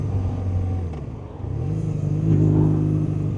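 A motorcycle rumbles past on a backcountry road, its engine note rising and swelling as it draws nearer, heard steadily under a continuous vehicle drone with no talk.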